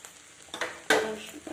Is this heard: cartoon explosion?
no